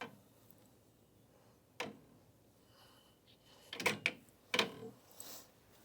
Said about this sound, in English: Place the roller back in the machine and rest on the brush assembly.